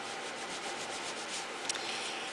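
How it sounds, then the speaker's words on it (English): A towel rubbing patina off a Friendly Plastic embellishment: a steady, soft, hissing friction sound, close and continuous, with one faint tap near the end. "we can even rub a little bit of this off with our towel here"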